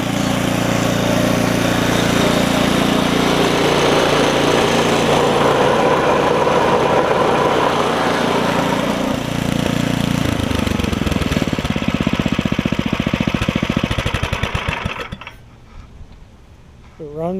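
An Ariens ST724 snowblower from an estate sale runs loudly up close with a rough rumbling chatter. The engine note changes partway through, then winds down and cuts off near the end, leaving near silence.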